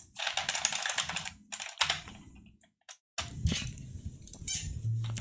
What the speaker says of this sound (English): I have a Unicomp Mini M keyboard, and these are my favorites.